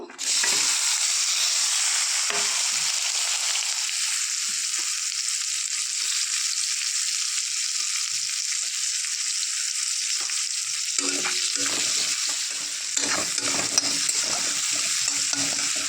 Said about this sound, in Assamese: এতিয়া দিম মই এয়া পিঁয়াজ, অলপ পিঁয়াজ বেছিকৈ দিব।